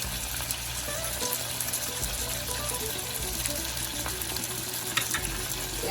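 Chicken with garlic fries in a pan for an Italian chicken dish with vegetables, giving a steady close crackling sizzle with occasional stirring, and nobody speaks.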